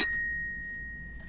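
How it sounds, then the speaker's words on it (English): A single bright ding from a small bell, struck once close by, its clear ringing tone slowly fading out. "We will go until Matt rings this bell."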